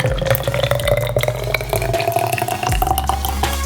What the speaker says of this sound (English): Pour the contents into convenient saucepans.